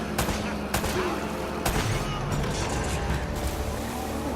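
Gunfire in the video game Uncharted: rapid bursts of automatic shots with sharp individual cracks, loud and close, crackling over a dense game soundscape with faint voices mixed in.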